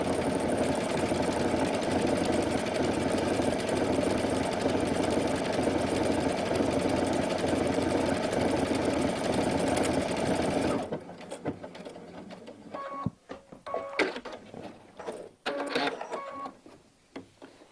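A Baby Lock Anthem sewing machine stitches a mini quilt label, running in a steady, dense whir for about eleven seconds, then breaking into shorter start-stop bursts with clicks as the fabric is pivoted around the needle.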